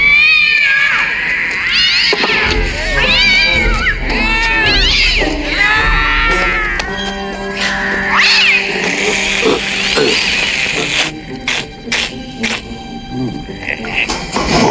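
Stock cat meowing effects from a movie scene: a rapid run of loud, close meows and yowls layered over crowd-like shouting and background noise.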